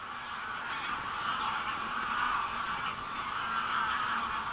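Migrating geese on the Danube shore keep up a steady distant honking chatter, a dense, faint flock chorus with no voices over it.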